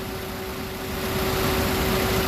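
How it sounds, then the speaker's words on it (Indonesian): A 2013 Daihatsu Terios 1.5 TX manual with 105,000 km idles with a steady, even hum and a constant broad whir, heard close with no voices over it. "Pastikan bahwa suara mesinnya itu halus."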